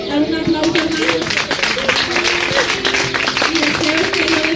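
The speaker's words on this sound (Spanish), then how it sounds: "Dar un aplauso, hermanos." A church congregation applauds, steady crowded clapping running throughout at close range, mixed with sustained tonal voices or music beneath the claps.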